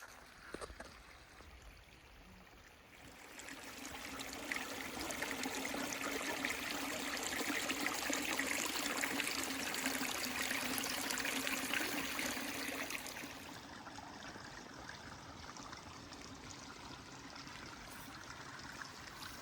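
A clear forest stream flows steadily along a wooded trail, a close, continuous trickling and gurgling rush that swells slightly in the middle and then settles.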